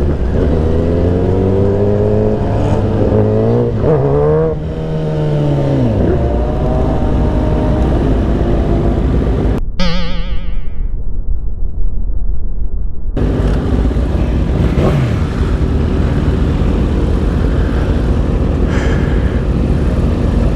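Street bikes rev hard at a street bike takeover, with loud, close engines climbing and falling in pitch. A sharp high whine cuts in midway, and the roar continues steadily.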